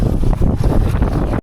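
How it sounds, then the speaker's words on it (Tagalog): Strong wind in Nueva Ecija, Philippines, pounds the microphone in heavy, gusting low rumbles, loud and continuous until it cuts off abruptly at the end. "ang lakas ng hangin dito"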